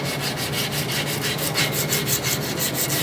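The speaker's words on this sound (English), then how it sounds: "Now we're going to use a regular body block and some fine sandpaper." Steady rhythmic sanding of a steel hammer with fine sandpaper on a body block, a close, even rasping scrub repeating in quick strokes with no talk.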